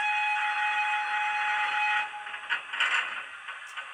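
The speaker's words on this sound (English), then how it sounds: "3 is a whistle, long whistle." A sustained, piercing long whistle from an OO gauge model locomotive's DCC sound system holds steady for about two seconds, then cuts off, leaving fainter mechanical hiss and clatter.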